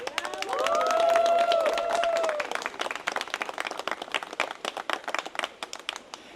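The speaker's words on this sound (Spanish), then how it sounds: "Un aplauso al Rey del Cielo." A pilgrimage congregation at a Catholic gathering applauds, with clapping that starts under a sung or shouted voice and then continues alone as crisp, close, steady claps for several seconds.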